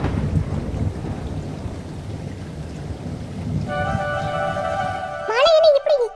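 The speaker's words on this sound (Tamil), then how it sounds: "இங்க மழை வந்தது, ஒதுங்கிறதுக்கு இடம் இந்த இடத்துல தான் இருந்தது." Heavy rain with thunder pours down as a dense, steady rumbling hiss; partway through, sustained tonal sounds rise over the downpour and swell louder near the end.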